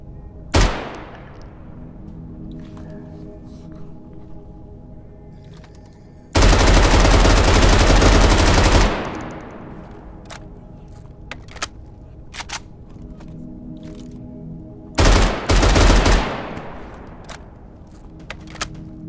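A FARA 83 5.56 rifle fires in the Anomaly mod game: one sharp shot at the start, then a long sustained automatic burst, later a second shorter burst, loud and close, separated by quiet gaps with faint clicks.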